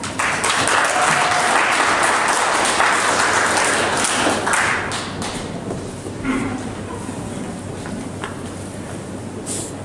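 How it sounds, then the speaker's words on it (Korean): An audience at a presentation contest applauds to welcome the first speaker, with dense, loud clapping filling the first half that thins and fades away, leaving a few scattered claps and some low murmuring. "큰 박수로 맞이해 주시기 바랍니다."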